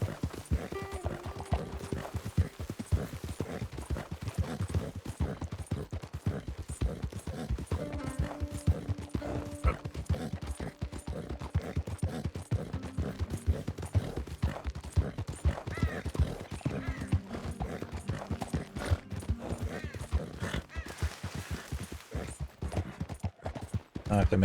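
Horse hooves clop in a steady trotting rhythm throughout in a video game, fairly faint, with occasional background tones layered underneath.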